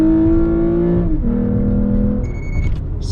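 A modified Toyota Camry accelerates hard from 0 to 60 mph, the engine revving loud and rising, then dropping in pitch at a quick gear change before climbing again, with a faint electronic chime near the end.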